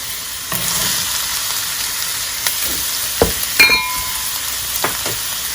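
Carrot and zucchini stir-frying in a pan, a steady close sizzle with scraping stirs and a few sharp utensil clinks against the pan, with no voices.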